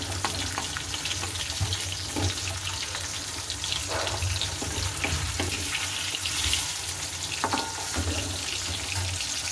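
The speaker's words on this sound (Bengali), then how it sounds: "তার এই 3টে মাছ ভেজে তুলে নিই ভালো করে" Three pieces of fish frying in a pan, a steady dense sizzle and crackle running throughout with occasional clinks and scraping, close and fairly loud, no talking.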